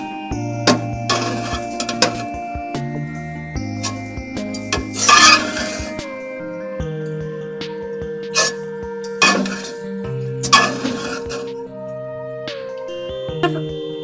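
A utensil stirs and scrapes chicken fried rice with spinach in a pan, making intermittent metallic clinks and scraping strokes over background music, with no talk.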